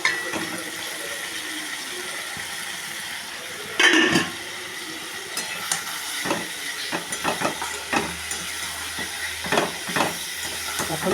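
Potatoes sizzling with spices in a pan, a steady frying hiss under scattered clinks and scrapes of stirring.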